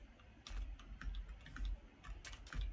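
Computer keyboard typing, quiet and close, in irregular clusters of sharp key clicks with a low thump under some strokes, no talk.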